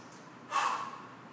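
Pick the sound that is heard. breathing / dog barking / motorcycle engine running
breathing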